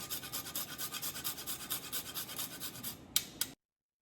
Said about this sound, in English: So we're just going to scratch in some nutmeg.